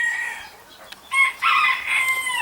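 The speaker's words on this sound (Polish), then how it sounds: "No teraz kogutki mi tylko tam wturują." A rooster crows nearby, a drawn-out call rising and breaking into several strained segments, with no talking.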